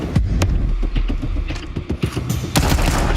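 Rapid gunfire in a Counter-Strike match, a loud, close cluster of sharp shots and bursts with booming impacts, crowding together over a few seconds with no talk.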